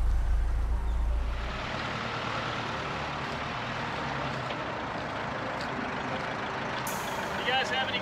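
A Mercedes G-Wagon 240GD diesel drives off-road through water and rough ground. A heavy low engine rumble eases into a steady churning wash of splashing and tire noise, with someone talking over it.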